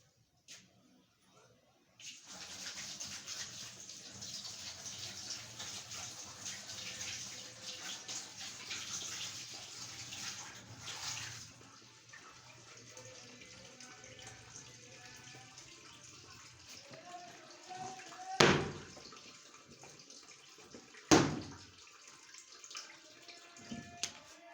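A kitchen tap runs steadily at a moderate distance while hands are washed, a soft continuous gush broken by a couple of sharp clatters near the end.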